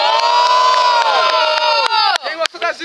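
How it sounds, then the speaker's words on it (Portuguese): A crowd at a Brazilian freestyle rap battle cheers loudly and continuously, with shouts and whoops, then breaks into scattered bursts of yelling near the end. "quem gosta das rimas do Cauê faz barulho"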